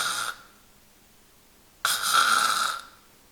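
A voice imitates irregular, interrupted snoring: a short rasping snore, a pause of about a second and a half, then a longer, louder rattling snore, heard alone.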